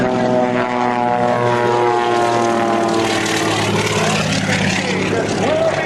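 Propeller aircraft engine roaring steadily and loud at an Air National Guard open house airshow, a continuous droning buzz with shifting pitch as the plane passes, speech faint beneath it.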